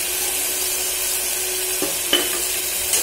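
Green peas stirred into a hot frying pan with ginger for white pulao: a steady, close oily sizzle with a few sharp scraping clicks from the spoon against the pan.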